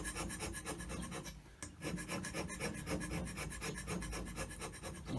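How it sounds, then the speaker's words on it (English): Hand scraper strokes across a 12-inch cast iron straight edge, giving continuous overlapping rasping scrapes in a steady rapid rhythm, close and loud with no speech, briefly easing at one point before resuming. "My scrapes are overlapping because I'm looking at dropping the surface, not just taking the peaks off a few hard points."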